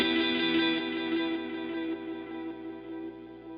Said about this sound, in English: the delays will be repeated on that single playback head